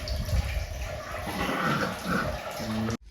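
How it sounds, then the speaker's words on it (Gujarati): Water from the Gaumukhi Ganga spring on Osam hill pours and splashes nearby, a continuous rushing wash with a voice faintly mixed in before it cuts off abruptly. "અહીંથી પાણી પડતું હોય નીચે ને આ બાજુ વયું જાય"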